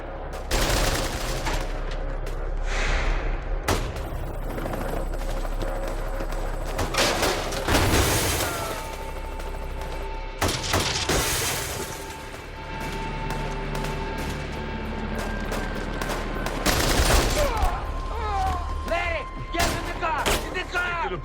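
Heavy gunfire from semi-automatic weapons in a shootout with police, repeated bursts and sharp cracks over a dense, loud din, with voices shouting now and then throughout.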